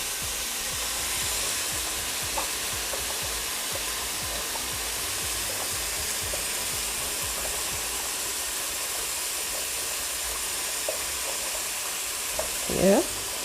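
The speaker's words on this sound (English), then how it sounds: "I'm just going to let that saute for a little bit." Sweet pepper sautéing in a pan while lasagna is being made, a steady, even sizzle and fry that runs throughout at moderate level, with a few faint utensil clicks and a brief louder clatter near the end.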